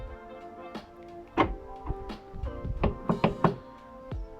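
Central locking from a cheap eBay kit clunks through the doors of a van, a series of sharp mechanical knocks and thunks arriving in uneven bursts, close and fairly loud, with no one talking.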